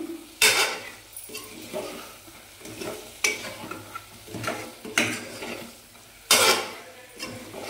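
Country chicken curry fries in a pan while a spoon stirs it. Sharp metallic scrapes and clanks come every second or so over a low, steady sizzle, with no voices.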